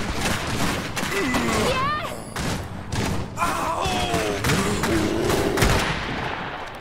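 Rapid gunfire crackles through a battle in the mechanized war strategy game Iron Harvest, with shots in busy clusters amid explosive thumps, mixed with urgent unit voice lines and overlapping speech.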